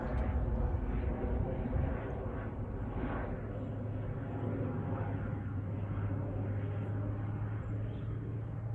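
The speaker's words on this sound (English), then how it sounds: "It's a slow helicopter." A steady low engine drone of a helicopter lingers overhead throughout, broad and continuous without fading away.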